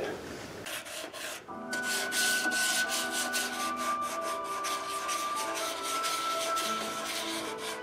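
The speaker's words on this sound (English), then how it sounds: "I like sanding with the 220 to start out with" 220-grit sandpaper rubs steadily over the lacquered body of a Fylde cittern, a close, continuous rasping swish in quick back-and-forth strokes after a brief pause near the start.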